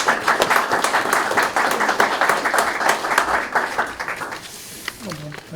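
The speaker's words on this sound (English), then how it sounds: "if we could give them a round of applause for hosting us" Applause at a small business pitch competition thanks the event hosts, a dense crowd clapping loudly that tapers off near the end as a voice begins speaking.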